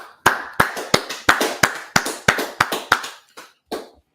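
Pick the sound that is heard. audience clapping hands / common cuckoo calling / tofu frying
audience clapping hands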